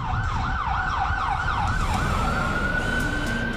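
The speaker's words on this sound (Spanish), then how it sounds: "Lo único que se siente constantemente son los ruidos de las sirenas" Emergency sirens wail through the empty streets of New York, a rising and falling yelp that settles into a steadier tone over a constant low traffic rumble, heard alone without voices.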